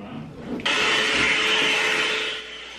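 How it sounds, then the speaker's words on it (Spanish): A hair dryer with a round brush attachment drying a fringe: a steady, close, loud whoosh of blowing air that starts abruptly after a brief muffled moment, holds for about two seconds and then fades. "Lo primero de todo va a ser secarme el flequillo"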